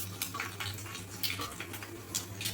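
Cumin, urad dal, dried red chilies and garlic frying in a pan for a red chilli dal tadka, steady close crackle and sizzle with a low hum beneath and scattered bright pops throughout.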